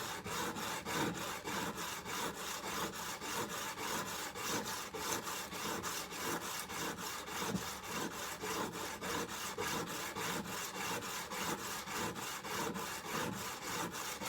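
Chisel rubbed back and forth on a 400 grit green sharpening stone, a steady rhythmic scraping of even, rapid strokes continuing close up with no pauses.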